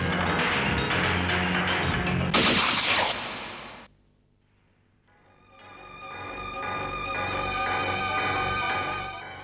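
Gunfire crackles in a dense, loud burst for a few seconds before cutting off abruptly into near silence, followed by a rising bed of dramatic music from a Hindi crime drama.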